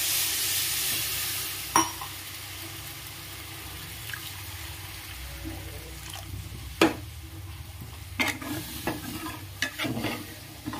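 Water poured into hot spiced oil for a banana flower dish bursts into a loud hiss, then settles into a steady simmering sizzle broken by sharp stirring knocks against the pan.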